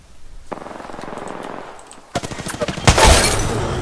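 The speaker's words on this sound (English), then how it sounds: "I sniper headshot this fucking lifeline out of the air" Sharp gunshot bursts and a heavy rifle crack from an Apex Legends match, where a Kraber sniper rifle is fired; a softer stretch of shots gives way to louder, denser fire near the end.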